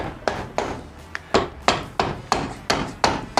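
Steady hammer blows, about ten sharp metallic-wooden strikes in an even rhythm, close and fairly loud with short ringing decays.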